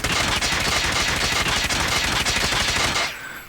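AGR 556 rifle in a shooter game firing one continuous fully automatic burst, loud and close for about three seconds before cutting off into a brief fading tail.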